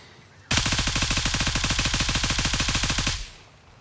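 A long, continuous burst of automatic rifle fire in the shooter Gray Zone Warfare, rapid evenly spaced shots for about two and a half seconds, loud and close, with no voices over it.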